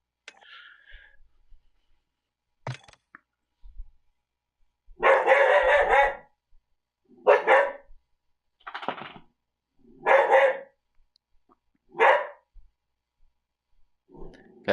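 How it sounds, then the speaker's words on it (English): A dog barks intensely in a string of about six loud, separate barks spaced a second or two apart, close by, with faint small sounds in the quiet gaps. "That's her intense bark."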